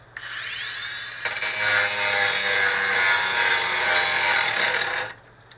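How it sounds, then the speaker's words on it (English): A handheld power grinder scours rust off a metal semi truck part, starting with a brief whine, then a loud, steady abrasive grinding for several seconds before cutting off. "Just kind of grind this off a little bit, take the rust away."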